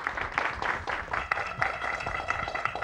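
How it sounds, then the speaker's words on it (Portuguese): Studio audience applause on a Brazilian TV program welcoming a band, lively clapping with some cheering and brighter peaks mixed in, steady throughout. "Palmas para ela!"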